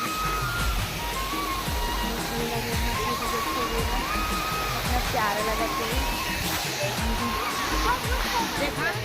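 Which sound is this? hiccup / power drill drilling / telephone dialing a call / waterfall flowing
waterfall flowing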